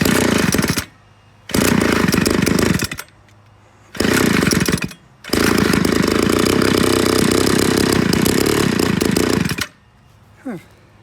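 A Homesite SXL chainsaw engine runs in loud, close bursts that rev up and cut out repeatedly, with short quiet gaps between each run.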